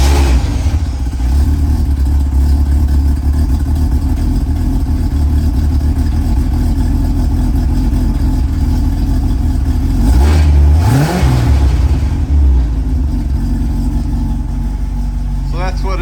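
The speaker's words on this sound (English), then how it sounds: "This is with the exhaust system that came on it." A 1984 Corvette C4 idles steadily on its original exhaust system in a garage, then gives a couple of quick, loud revs that swell and drop back to idle, with a voice talking over it.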